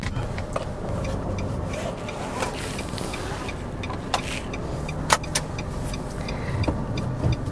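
A 2011 Nissan March engine runs steadily under a broad road roar while climbing uphill, with occasional clicks and rattles, heard from inside the moving car.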